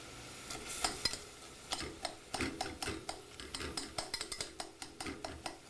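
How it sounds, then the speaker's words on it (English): Onions sweating in a pan over the stove, a low sizzle beneath quick repeated scraping and tapping as a utensil stirs them against the pan, close and fairly steady. "Now what you're going to do is you're going to sweat these onions out."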